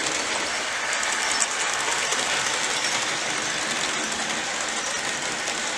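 A Bachmann GS-4 Daylight #4449 model locomotive hauls a train of cars along a model track, giving a steady, close rolling rumble with faint rhythmic wheel clatter throughout.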